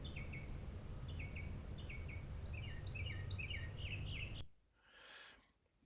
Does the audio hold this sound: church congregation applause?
no